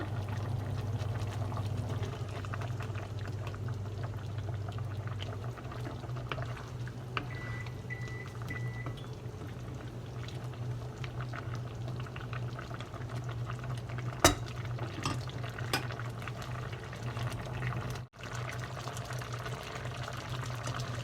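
A pot of Thai red curry with chicken and pumpkin boils hard, a continuous low bubbling rumble with occasional soft clinks, close and steady with no talk.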